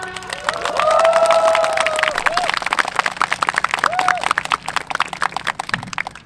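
Students at a Korea University protest rally clap and cheer in a loud, dense burst that swells early and then continues as ragged clapping with crowd noise, with a voice over a loudspeaker in the background.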